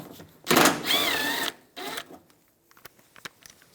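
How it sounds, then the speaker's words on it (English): A 10mm socket on a ratchet or driver backs a screw out of the inner fender well of a 2004-2009 Toyota Prius, heard as a close whirring burst and short clicks before quieter ticks. "Using a 10mm socket, take this screw out."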